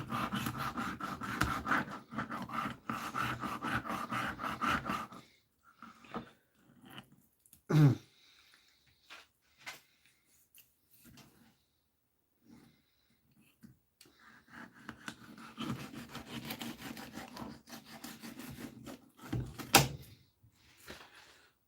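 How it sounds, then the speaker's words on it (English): A knife filleting big whiting and a haddock gives close, scratchy scraping strokes in two busy bursts, separated by a quieter stretch with a few isolated knocks. "we're just trying to get a fillet off these big whiting"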